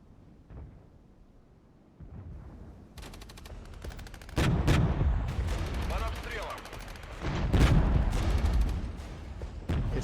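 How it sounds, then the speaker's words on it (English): Artillery cannon fire in the Regiments real-time tactics wargame: repeated heavy booms and crackling volleys that grow louder, layered over a rumbling battle bed. "Here's the cannon fire coming in."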